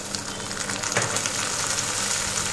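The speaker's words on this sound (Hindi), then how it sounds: "2 मिनट हम पहले प्याज को भून लेंगे। अब हम टमाटर डाल देंगे" Onion and tomato fry in a kadai for kadai paneer, giving a steady, close hiss of sizzling oil that runs without a break.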